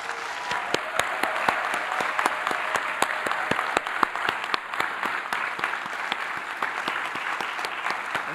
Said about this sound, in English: Give yourselves a pat on the back and another round of applause.